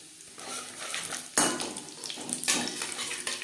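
Whole cumin seeds fry in a pan that previously held broccoli, with soft crackling sizzle and clinking metallic spoon strikes against the pan, a few sharper knocks standing out.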